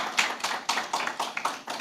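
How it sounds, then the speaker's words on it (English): Brief applause from a small panel-event audience, a handful of sharp, rhythmic hand claps close by, steady and fairly loud, with no voices. "Let's give them a round of applause."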